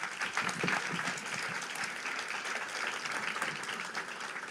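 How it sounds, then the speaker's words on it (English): Audience applause at an Axios event on influence and information in the AI era: a room full of steady clapping, dense and even throughout, close and loud with no talk over it. "Everyone, a round of applause for Rebecca Cutler."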